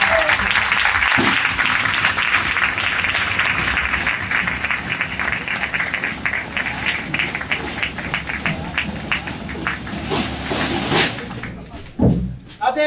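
A crowd at the Castellamonte historic carnival, its 70th edition, applauds loudly and steadily for several seconds, the clapping thinning out toward the end before a few thuds close the moment.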